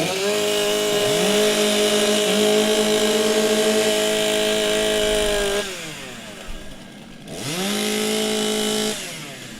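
Several chainsaws revving and idling together at a timbersports competition, a loud sustained buzzing roar with rising throttle swells, dropping to a rougher idle before revving back up.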